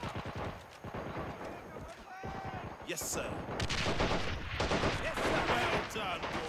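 Gunfire from soldiers in the Men of War video game: repeated sharp shots and bursts in a loud, busy battle mix, with voices talking over the action.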